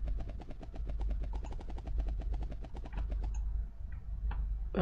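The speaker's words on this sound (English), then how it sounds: "the helicopter's landed somewhere, so that's one thing" A helicopter in the video game Cannon Fodder gives a fast, steady rotor chop throughout, loud and close, with a few sharp game effects near the end and no speech.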